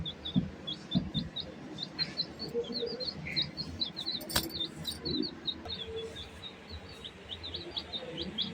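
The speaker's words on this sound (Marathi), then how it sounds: "नंतर बघतो त्या पोरने कोंबडीचे पिल्ला आणून ठेवलेत घरात" Chicken chicks chirp indoors in a home, a steady run of short, high peeps repeating quickly throughout, fairly close and moderately loud, with faint household knocks and rustles underneath and no talking.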